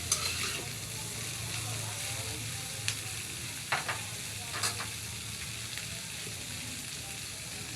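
Tofu frying in a pan for a sisig dish, giving a steady close sizzle that runs throughout, with a few brief stirring scrapes and crackles rising above it.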